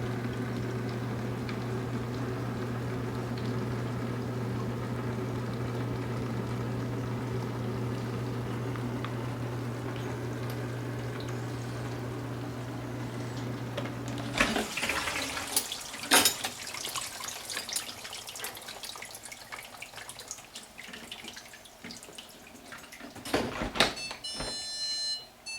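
A Whirlpool WDF760SAD dishwasher running a heavy duty wash cycle gives a low, steady hum with water swishing inside, then shifts to clatter and sloshing bursts near the end, close by and fairly quiet.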